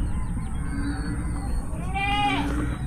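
Goats bleating at a goat pasture on a farm, with chickens nearby, a single wavering bleat rising near the end over a constant low rumble of rain and background farm noise.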